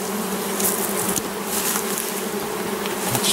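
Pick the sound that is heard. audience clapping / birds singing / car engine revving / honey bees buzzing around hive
honey bees buzzing around hive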